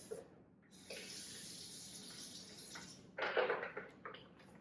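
Water pours into a blender with ice, a steady stream running for a couple of seconds, then a brief louder splash and a few trailing drips, close by and without speech.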